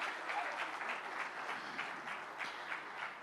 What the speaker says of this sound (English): Can we give them a bigger round of applause for this?